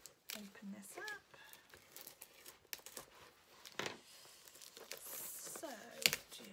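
Paper packaging from a paper crafting kit is torn and crinkled up close in short, scratchy bursts between quiet pauses, with a soft voice speaking at moments.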